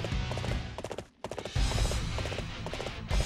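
Horse hooves gallop in the Dynasty Warriors 8 Xtreme Legends battle, a steady loud clip-clop rhythm with a brief dip in the middle, then the pounding resumes with a low rumble.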